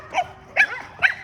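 Boykin spaniels kept in a kennel cage barking: three short, sharp barks spaced about half a second apart, fairly close and clear against a quiet background.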